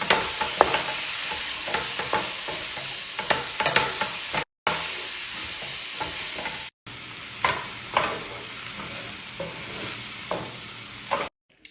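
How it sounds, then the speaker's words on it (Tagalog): A spoon stirs and scrapes samosa filling mixed with green peas in a pan, giving steady close-up rhythmic scraping and soft sizzling with brief pauses and no talk. "At add ko na rin itong green peas. At i-mix ko siya."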